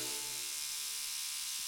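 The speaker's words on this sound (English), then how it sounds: "That's your father's toothbrush." A cartoon electric toothbrush buzzes steadily with a high, thin whine, faint and continuous throughout, with no talking.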